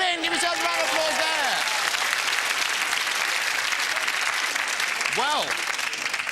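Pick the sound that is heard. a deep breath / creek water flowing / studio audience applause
studio audience applause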